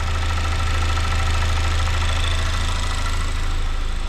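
A GM 2.0L turbocharged engine idles smoothly and steadily after its coil pack has been replaced, a loud, even rumble that continues without interruption and with no one talking.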